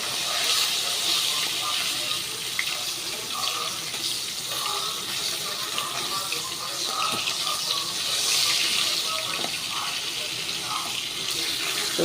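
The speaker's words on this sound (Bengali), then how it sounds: "চোপড়াটাকে ভেজে নেওয়া হচ্ছে" Hilsa fish head pieces frying in hot oil, a constant close sizzling hiss with small pops and crackles scattered throughout.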